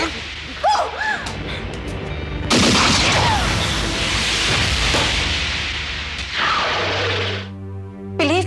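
Sharp pistol gunshots crack out amid a chaotic burst of shouting and screaming voices, with a loud blast partway through and ringing tones at the end.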